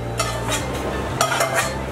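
A spatula stirs Chinese food in a pan over a low, steady sizzle, with a few soft scraping strokes and light metallic clinks spaced out across the moment.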